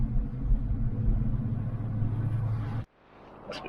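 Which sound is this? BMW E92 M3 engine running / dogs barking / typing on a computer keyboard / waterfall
BMW E92 M3 engine running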